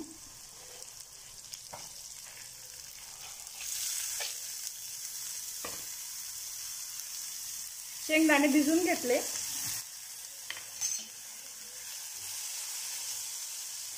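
Moth beans frying in an onion, ginger and garlic tempering with red chilli powder, a continuous sizzle and hiss with scraping stir strokes against the pan, while someone speaks briefly over the cooking.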